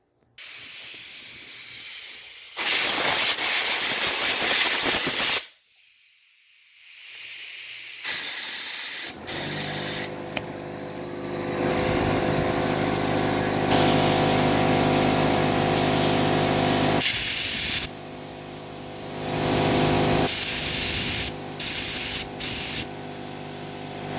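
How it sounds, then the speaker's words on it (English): Compressed air from an air compressor blasts through the small holes of a Keihin PWK carburetor jet block during a rebuild, giving loud sustained hissing bursts that start and stop repeatedly, close up with no talking. "we'll use the air compressor and blow through all these little holes, every hole on this carburetor, and then blow it out"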